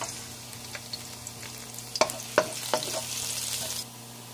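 Egg, seasoning cubes, powder and salt mixed into bitter gourd (ampalaya) frying in a pan, a low sizzle with a few sharp spatula scrapes and knocks, close, ending as the sizzle fades.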